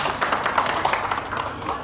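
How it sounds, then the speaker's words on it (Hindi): Dense, continuous applause from an audience fills the room at the premiere of the Garhwali film Dwi Hola Jab Saath, a busy patter of many hands with voices mixed underneath. "तालियां।"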